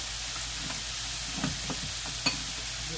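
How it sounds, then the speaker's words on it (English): Leftover rice heating in a skillet gives a steady, soft sizzle, and a few light scrapes and stirs break through, with one sharper clink near the end. No one speaks. "I think what I'm going to do is heat this rice up"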